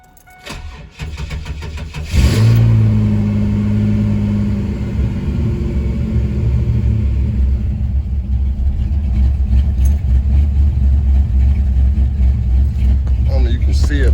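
A 1997 Pontiac Firebird V6 cranks with a rapid starter whir for about two seconds, catches loudly, then settles into a steady low idle rumble that runs close and continuous to the end.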